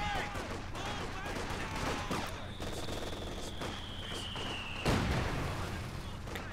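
MG42 machine gun fire in the video game Company of Heroes 2, with bursts of rapid gunfire and battle noise mixed together over a steady din, while a commentator talks over the action.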